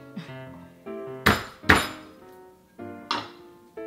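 Garlic cloves being smashed on a kitchen surface to loosen their skins while preparing a lemon garlic vinaigrette: a few separate sharp bangs and knocks, close and fairly loud, with quieter clinks between them.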